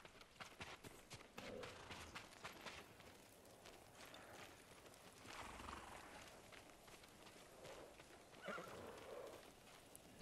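Samurai horses in Ghost of Tsushima whinny and neigh repeatedly over a steady clip-clop of hooves, with short snorts rising out of a busy, fairly loud outdoor game soundscape.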